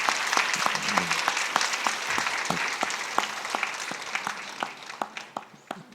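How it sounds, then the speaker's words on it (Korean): Church congregation at a Friday evening service applauding a newly ordained pastor, a brisk wash of clapping with distinct individual claps standing out, tapering toward the end. "박수 한 번만 쳐주시면 고맙겠습니다"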